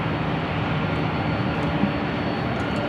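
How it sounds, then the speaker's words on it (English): At LAX an SAS Airbus A350 takes off from runway 24 left, giving a loud, steady jet engine roar that holds evenly from the nearby runway with no speech over it. "Looks like we got SAS, the A350 heading back to Copenhagen, also heading up for a Northside and take off on 24 left."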